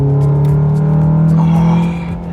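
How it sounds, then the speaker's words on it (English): A Honda Accord four-cylinder VTEC engine revs loudly and close by on winding roads, holding a strong, smooth, buzzing tone that climbs slightly before easing off. "is that not one of the most incredible four-cylinder sounds you will ever hear?"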